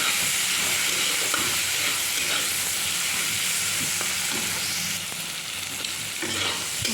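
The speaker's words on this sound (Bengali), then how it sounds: "হলুদ দিয়ে একটু ভালো করে ভেজে নেব" A pan sizzles and crackles steadily as bathua greens fry with turmeric, occasional stirring scrapes breaking through; no one speaks.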